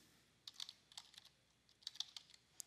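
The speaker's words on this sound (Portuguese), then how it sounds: "Digite o termo desejado na barra de pesquisa" A search term is typed on a computer keyboard, with light, quiet keystrokes coming in two short bursts separated by a pause.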